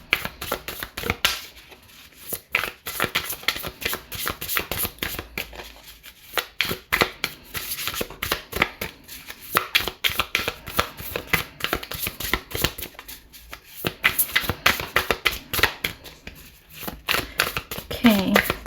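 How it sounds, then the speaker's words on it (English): Tarot cards being shuffled by hand in repeated riffling bursts, with short pauses between rounds, close and fairly loud throughout. "Why do I always feel the need to shuffle for you more than with other signs?"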